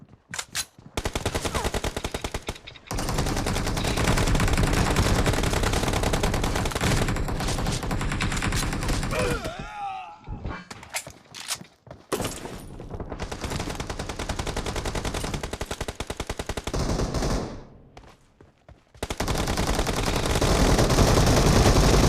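Continuous automatic gunfire in the PUBG shooter video game hammers loud and near for most of the stretch, broken by a few short pauses and dropouts before the bursts resume.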